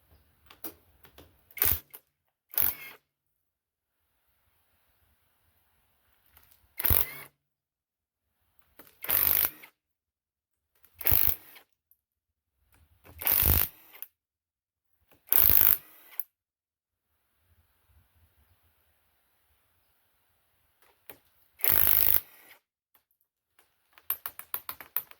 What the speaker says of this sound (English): we're going to zip these head bolts loose